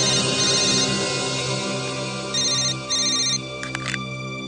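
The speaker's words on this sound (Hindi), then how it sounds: "जब भी सीरियस डिस्कशन होता है तेरा फोन आता है" A phone ringtone sounds in steady repeated electronic bursts during a CID police episode, clear and fairly loud against a quiet background, with a few sharp clicks near the end.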